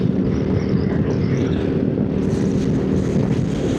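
A 2026 Royal Enfield Himalayan motorcycle runs steadily as it accelerates up through the gears, a continuous low engine drone mixed with heavy wind rush from riding, loud and close without clear breaks between shifts.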